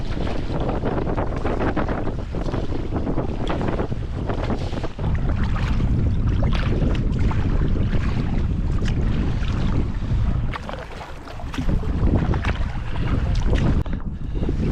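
Canoes being paddled into a headwind on Lake Superior's remote north shore, with steady wind rushing across the microphone and water sloshing against the hulls, a brief lull near the end before the gusts return.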